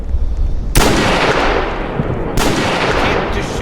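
Loud, close bursts of gunfire in a storm chasing video game, two heavy blasts with sustained roaring fire between and after them, no talk.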